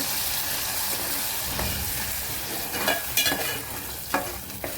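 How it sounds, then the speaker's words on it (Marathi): A paste of onion, tomato, cashew, garlic and ginger sautés in hot oil, giving a steady close sizzle with a few sharp stirring scrapes toward the end. "कांदा, टोमॅटो, काजू, लसूण आणि अद्रक ती पेस्ट घालून घेऊ. तेलावरती चांगली परतून घेऊ."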